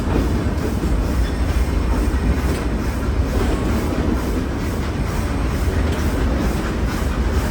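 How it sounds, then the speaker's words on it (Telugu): The Ooty toy train on the Nilgiri mountain railway rumbles loudly and steadily along its rails as it heads into a curve, with a constant wheel roar and faint rhythmic clatter from the carriage, and no voices. "ఇప్పుడు ట్రైన్ ఒక కర్వ్ తీసుకోబోతుంది."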